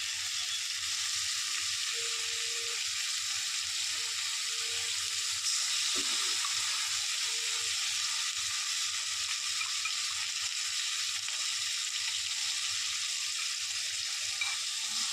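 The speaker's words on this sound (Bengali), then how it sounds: "এবার আমি দেব পেঁয়াজ বাটাটা।" Onion paste frying in a pan while cooking snakehead fish (shol), a steady soft sizzle running evenly throughout with a few faint clinks, no talk.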